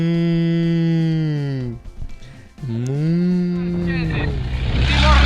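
Cattle in Timor lowing in two long, loud mooing calls close by, the second trailing into rumbling noise, with no talk.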